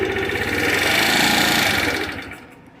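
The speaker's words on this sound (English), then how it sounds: "So can we give it a little rev?" A GY6 scooter engine with a fault, just after a hard start from sitting unused, revs steadily at close range for about two seconds, then the noise drops away as the throttle eases off.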